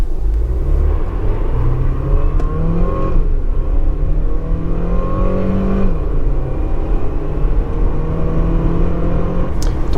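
A Skoda Superb 1.4 TSI Sportline pulling hard at full throttle from inside the cabin, a rough engine drone rising steadily in pitch through successive gears with brief dips at each shift.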